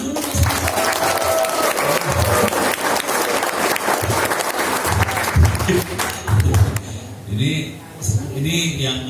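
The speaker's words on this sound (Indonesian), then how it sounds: "Tepuk tangan dulu." Applause at a school seminar in Solok Selatan, Indonesia, with sustained clapping from the audience that thins out near the end as a voice begins talking over the dying claps.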